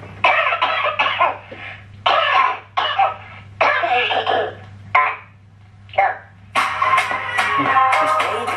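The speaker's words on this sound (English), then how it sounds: "Did you see how it started, yeah, with one of them coming out coughing" Ghetto Kids dance performance on Britain's Got Talent, opening with a performer coughing: several loud, close coughs and throat-clearing bursts in quick succession, then a dense stretch of louder, sustained sound.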